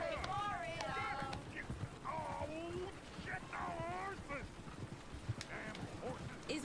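Horse hooves clip-clopping in Red Dead Redemption 2, quiet irregular hoof thuds on the ground, mixed with voices talking and other animal calls.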